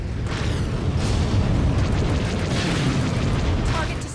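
Missile explosions in a real-time strategy video game, a dense, continuous roar of booms and blasts filling the whole moment at high loudness, with faint voice-like game sounds mixed in.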